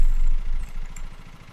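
A lawn mower engine starts up and runs in the video game Lawn Mowing Simulator, a rhythmic low chugging idle that is loud at first and gradually fades.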